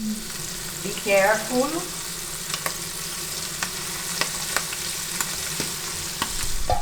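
Squid frying in very hot oil in a Greek kitchen, stirred around the pan: a steady close sizzle with a brief clatter of stirring near the start, and a short spoken warning over it.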